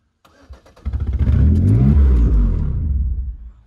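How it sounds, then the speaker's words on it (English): A Pontiac engine cranks, catches and revs briefly as gas is applied, then bogs down and dies away as it stalls, close and loud with no talking. "As soon as I try to give it gas, it just stalls out."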